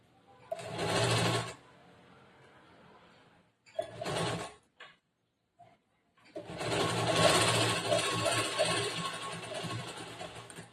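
A sewing machine stitching a blouse with lining, running in three bursts: a short whir, a brief quick run, then a long steady stretch of rapid needle chatter, with quiet pauses between.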